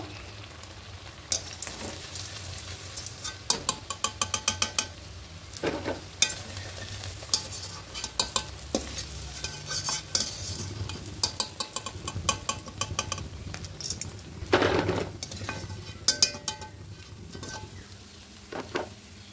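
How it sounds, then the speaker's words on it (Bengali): Fish pieces frying in oil in a pan on a gas stove, a steady low sizzle broken by scattered clinks and scraping stirs, one louder burst of hissing midway, with no voice. "এগুলো দু পিঠটা এপিট ওপিট করে লাল লাল করে ভেজে নিয়েছি।"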